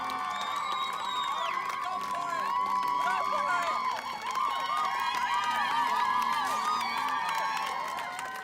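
A large crowd at a race finish line cheers wildly, with shrill whoops, whistles and shouting voices layered into a continuous, energetic roar that swells and stays loud throughout.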